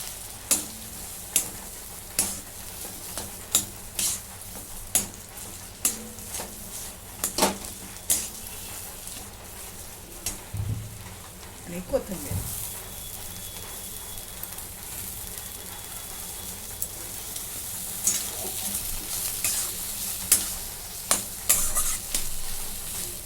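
Boiled potatoes fry in a pan, a soft steady sizzle punctuated by regular sharp scrapes and clinks of stirring, close and without talk.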